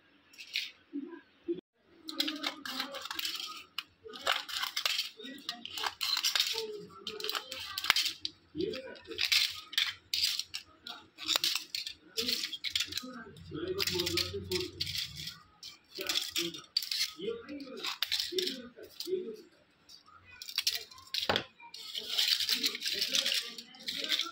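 Repeated crisp snipping and crinkling of stiff plastic and foil as used medicine blister strips are cut into pieces, close up, with small clicks and rattles throughout and brief pauses between cuts.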